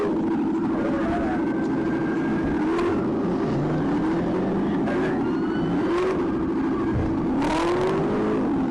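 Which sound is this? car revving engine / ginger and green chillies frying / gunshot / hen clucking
car revving engine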